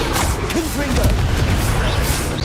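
A Confringo fire spell bursts in Hogwarts Legacy with dense, booming explosive noise over continuous loud game sound, with brief voice-like tonal sweeps mixed in.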